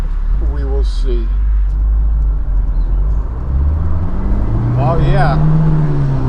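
A Honda S2000 engine fitted with an aFe Takeda intake, heard from inside the car as a loud, throaty drone that rises in pitch, with a voice speaking briefly over it.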